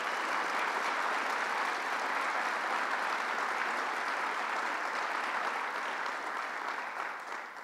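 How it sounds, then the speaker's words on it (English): A large audience at a governor's event on middle-class tax fairness applauding a county executive, a loud, sustained round of clapping that holds steady for several seconds before beginning to fade near the end, with no voices over it. "Let's give him a round of applause"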